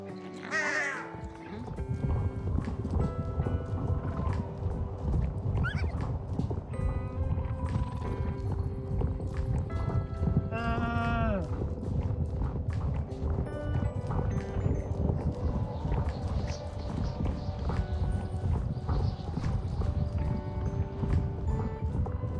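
In a video game, wild horses in a winter village setting clop their hooves in a steady rhythm that runs throughout, with occasional neighs and whinnies and crows cawing, over continuous background ambience and music.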